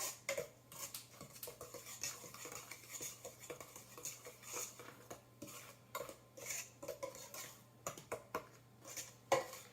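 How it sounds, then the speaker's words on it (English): Biscuit dough being worked with a pastry blender in a bowl gives off soft, irregular clinks and scrapes of metal against the bowl, faint and close. "I use my pastry blender and I just mix that up."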